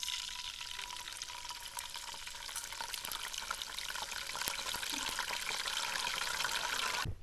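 Banana slices sizzle and crackle quietly in hot oil as salt-turmeric water is added, a soft continuous frying hiss broken by small pops and stirring clatter.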